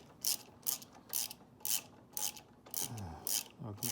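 A ratchet tightens a bolt on the center stand of a KTM 790 Adventure R motorcycle. It gives quiet, close, regular bursts of clicking, about eight strokes in four seconds, with a faint squeak near the end.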